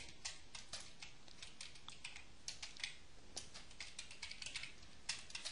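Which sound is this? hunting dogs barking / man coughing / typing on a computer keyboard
typing on a computer keyboard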